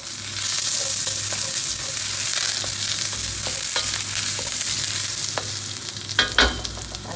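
Curry leaves, ginger and garlic sizzle steadily in a pan with mustard and cumin seeds, a dense constant frying hiss, with occasional sharp pops and a stir near the end.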